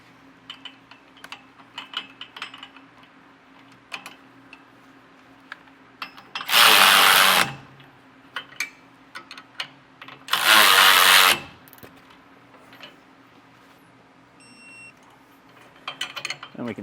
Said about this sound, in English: we're going to be using a 3/4 inch socket and wrench to tighten these down